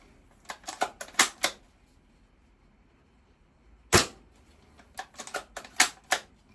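A Tokyo Marui VSR-ONE spring-powered airsoft rifle firing, one sharp crack standing alone amid clusters of quick clicks and snaps from handling, all fairly close and crisp.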